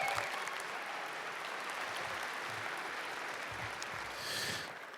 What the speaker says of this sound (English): please give yourself a big round of applause for coming out today